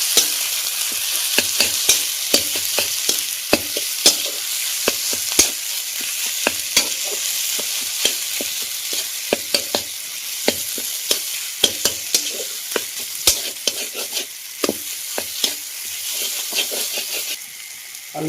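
Mashed boiled potato is stirred into a banana flower mixture in a frying pan. A steady sizzle runs under frequent sharp spatula scrapes and taps in an irregular rhythm, close and fairly loud, with no talking.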